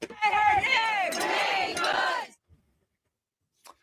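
Crowd at a shooting memorial in Minneapolis, a mass of voices shouting and chanting together loudly for about two seconds, then cutting off into near silence with a faint brief noise near the end.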